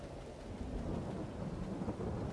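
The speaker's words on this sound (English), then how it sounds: "it's pouring rain." Heavy rain pours down in the farming video game Farming Simulator 22, a dense low rumble of thunder rolling underneath the constant downpour, loud and unbroken with no talking.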